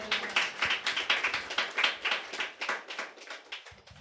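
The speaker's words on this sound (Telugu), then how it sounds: "చప్పట్లు కొడతారా?" A church congregation claps along during a Sunday service, producing a steady, evenly paced run of sharp claps at moderate volume with no talking over it.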